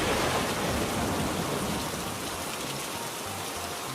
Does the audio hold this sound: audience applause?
no